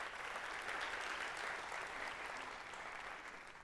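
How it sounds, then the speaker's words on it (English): An audience at a university talk on sustainable food systems claps in a brief, even round of applause that sounds soft and distant and tapers off slightly at the end. "let's give them a round of applause for being here"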